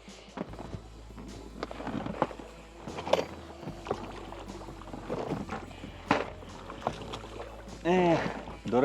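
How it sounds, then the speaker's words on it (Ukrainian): A small rowboat sets off on the water, paddle and hull sounds splashing and knocking at close range, with people talking throughout. "Можемо відправлятися на нашому невеличкому човні"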